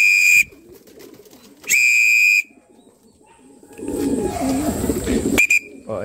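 Racing pigeons coo in a low, throaty murmur during club training, preceded by two sharp, loud whistle blasts at close range.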